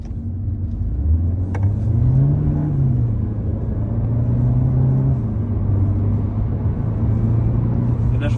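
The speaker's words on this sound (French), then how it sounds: "je vais tester l'accélération puis le freinage" Renault Clio 5 RS Line accelerating hard on a straight road, heard from inside as a steady engine drone whose pitch climbs, dips at a gear change and climbs again.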